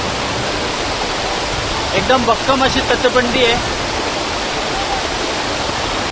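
A rain-filled stream flowing along the hiking trail to Visapur Fort, a steady loud rush of water that continues under a voice speaking briefly in the middle.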